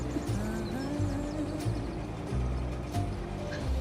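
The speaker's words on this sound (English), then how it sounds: "It sounds like a tractor." A tractor engine in Farming Simulator 25 drones steadily at close range, a low continuous rumble with slight shifts in pitch and occasional soft thumps, running alone throughout.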